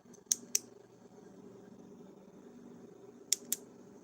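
A click pen with a stylus tip clicks twice in quick succession, then twice more a few seconds later; sharp, close, quiet clicks over a faint background hum.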